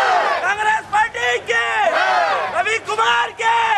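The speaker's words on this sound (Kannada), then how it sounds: "ಪಕ್ಷದ ಕಾರ್ಯಕರ್ತರ ಹರ್ಷೋದ್ಗಾರ ಜೈಕಾರದ ನಡುವೆ ಮೆರವಣಿಗೆ ಜನಸಾಗರದ ನಡುವೆ ಸಾಗಿತು" Congress party workers at an election nomination procession in Mandya cheer and shout slogans in unison, loud and close, a massed crowd roar with rising and falling chanted calls that pause briefly before surging again.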